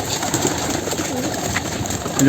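Pigeons coo softly in a loft among a small-breed collection, a low steady murmur running throughout at moderate distance, with a brief louder rise at the very end.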